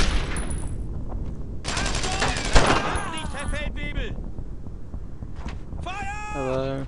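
Gunfire crackles through a battle in the Brothers in Arms: Road to Hill 30 video game, loud bursts of rapid shots mixed with whistling, shouting game effects and dense background clatter.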